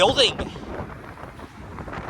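Strong wind buffeting the microphone in heavy rumbling gusts, loud and continuous outdoors on Yonge Street near downtown Toronto in January.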